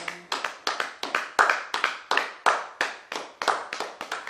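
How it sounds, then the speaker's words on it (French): A church congregation at a prayer service claps in praise, sharp bursts of clapping repeating in an uneven rhythm of about a dozen claps, fairly close and unaccompanied by speech. "nous acclamons le Seigneur"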